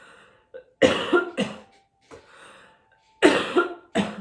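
Several harsh, throaty coughs in quick bursts, close and loud, with short quiet gaps between clusters.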